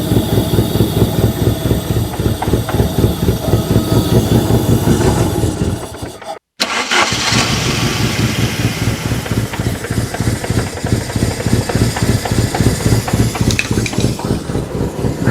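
Engine of an abandoned vehicle struggling to idle, a loud rough low rumble with uneven pulsing that cuts out for a moment before catching again, with no talk.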